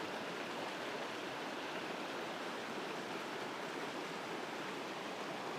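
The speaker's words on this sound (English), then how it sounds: "There's a lot of snowmelt in this creek bed here." A continuous rushing of snowmelt flowing in a creek, steady and fairly close, with no pauses or voices.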